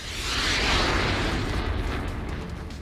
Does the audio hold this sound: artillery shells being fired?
yes